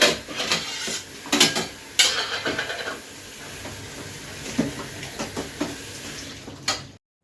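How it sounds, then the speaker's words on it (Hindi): Dishes, pots and utensils are washed at a home kitchen sink, with irregular clinks and clatters of metal over running water, close and moderately loud. "अब फटाफट से बर्तन वॉश करती हूँ,"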